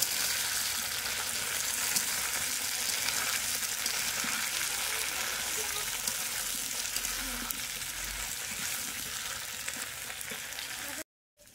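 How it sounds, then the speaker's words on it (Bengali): Eggplant, potato and taro fry in a pan with a steady, close sizzle and crackle that holds evenly throughout, then cuts off briefly near the end. "এবার ভালো করে বেগুন আর আলুটা কচুরমুখির সাথে ভেজে নেব।"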